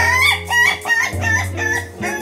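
An ayam ketawa, the Indonesian laughing chicken rooster, crows in a fast broken cackling series of rising and falling calls, loud and close, over a steady low hum.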